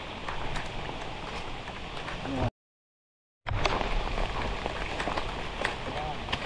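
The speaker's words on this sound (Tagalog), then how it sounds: "Walang humpay na po ang ano, ang ulan ulit." Steady rain patters and hisses on a surface, dense and close, interrupted by a short moment of silence before continuing.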